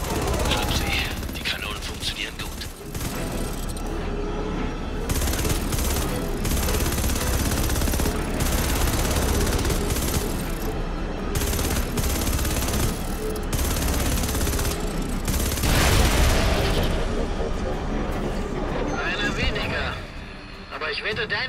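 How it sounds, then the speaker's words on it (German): Spaceship cannons fire in rapid, sustained volleys during combat in the PlayStation 3 game Starhawk, a dense, loud barrage with brief pauses, mixed with engine roar and game effects. "Die Kanonen funktionieren gut."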